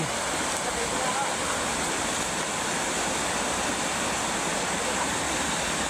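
A strong river current rushes steadily at a swimming spot, a dense continuous roar of water filling the whole clip at close range with no pauses.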